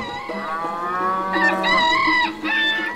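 Cow mooing in a rural field in a Crimean village, a loud close drawn-out call broken into two rising and falling bellows, heard alone.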